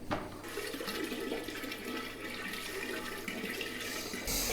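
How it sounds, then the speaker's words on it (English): Water pouring into a flask while making spiced mead, a continuous rushing, splashing flow close by that keeps steady for several seconds, then shifts and brightens at the end, with no talking. "Yeah, then we continue to add water."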